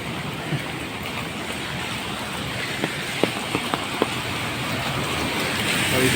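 Heavy rain pours onto a flooded street in a steady, broad hiss, broken by a few faint clicks and knocks.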